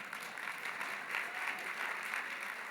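An audience at a Republican Jewish Coalition leadership meeting gives a steady round of clapping, dense and even for a few seconds at a moderate distance, with no voices over it.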